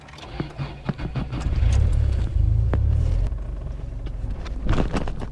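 Engine of a Subaru car with a manual gearbox as the clutch is let out, a low rumbling surge that swells, holds and eases off, with faint clicks and knocks nearby and no talk.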